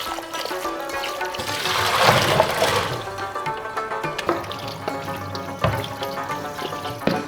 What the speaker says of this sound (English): Rinse the ingredients 3 times or until the water runs clear.